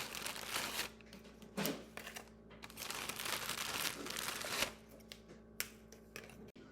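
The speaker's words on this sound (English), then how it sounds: "Next, you're going to break 15 graham crackers in half." Graham crackers snap in half for a frozen s'mores recipe, giving several crisp, close, quiet cracks and crinkles spaced irregularly, with no talk.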